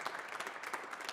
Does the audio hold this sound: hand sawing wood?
no